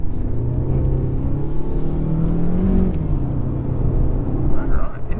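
A 2021 Mercedes GLA200 accelerates in sports mode with a steady, loud engine rumble that rises in pitch, heard from inside the car with some speech.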